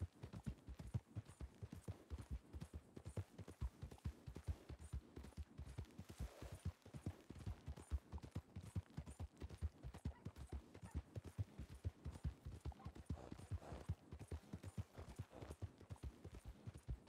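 Horse hooves clip-clop steadily in a video game, a fast, even run of sharp hoof strikes close by that continues without pause and with no voices.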